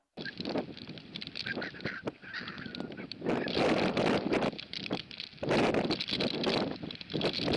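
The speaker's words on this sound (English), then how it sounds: "I just think these poor birds are battling against the storm." Flock of shorebirds including redshank on a stormy shore, trail camera recording; constant heavy wind noise roars throughout, with faint bird calls and honks barely rising through the gusts.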